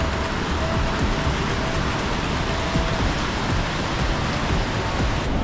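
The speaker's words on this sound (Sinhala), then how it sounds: "වැටෙන වතුර සද්ද ඇහෙන හොඳට" Water pouring down a small waterfall near Bomburu Ella in Sri Lanka, a steady, dense roar of falling water that stays even and continuous throughout, close and loud with no voices.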